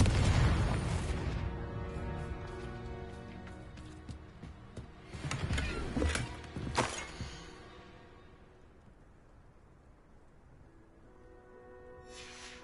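A Confringo fire spell explosion in Hogwarts Legacy, a heavy boom at the start followed by further bursts and crackling blasts around the middle, then a fading rumble into near quiet.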